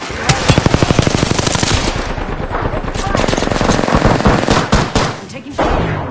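Rapid automatic gunfire from the video game Apex Legends, a dense loud burst of shots in quick rhythm, then a short pause and more irregular firing, with game voice callouts mixed in.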